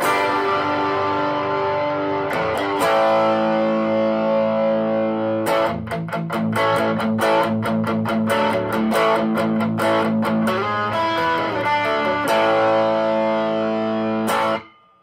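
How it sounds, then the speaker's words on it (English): Electric guitar played through an Eaglebones Falcondrive pedal set to light overdrive, with sustained chords and bursts of rapid strummed strokes, loud and close with no talking. "We have it set, just a little bit of overdrive."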